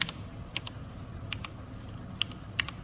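Keys tapped on an ETC Eos theatrical lighting console keypad give a few sparse, light clicks spread over a couple of seconds, close but soft against a low background hum, with no speech.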